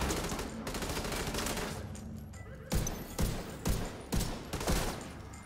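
Gunfire in the video game The Division 2: a rapid, continuous fusillade at first, then after a brief lull five sharp, evenly spaced bursts ring out loud and close.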